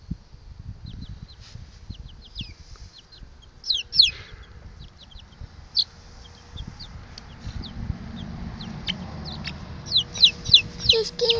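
Chickens cluck and chirp in scattered short, high calls, fairly faint over low handling and rustling noises close by, growing busier toward the end.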